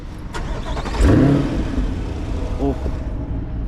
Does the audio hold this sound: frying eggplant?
no